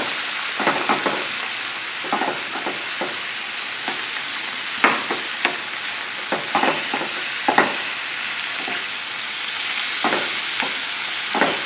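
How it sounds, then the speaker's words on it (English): Fresh tomatoes hit a very hot pan over a high flame and sizzle with a continuous hiss, broken by sharp crackles and stirring scrapes at irregular moments, close up and with no one speaking. "So we have this nice and hot, and then we add the tomatoes."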